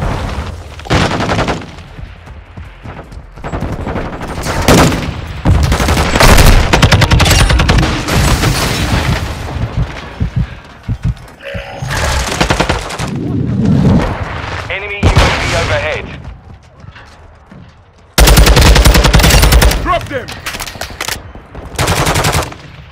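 Rapid automatic gunfire and heavy bursts in the hardcore mode of the video game Call of Duty: Modern Warfare II, loud and dense, with pauses and radio-style voice callouts mixed in.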